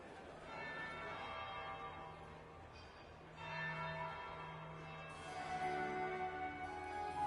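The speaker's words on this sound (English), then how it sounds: "That would be the second bell." Bell ringing inside the video game Dragon Age Inquisition, at a grand ducal party, sustained tolling tones layered over music and ambient murmur for several seconds.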